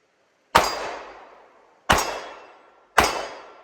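Pistol rounds from a Canik MC9 fitted with a red dot strike steel targets outdoors, giving three sharp, ringing metallic clangs at uneven intervals, each decaying slowly into silence.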